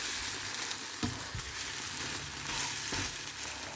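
Halved king oyster mushrooms fry in hot oil in a pan, with a continuous close sizzle, a few soft knocks and stirring sounds.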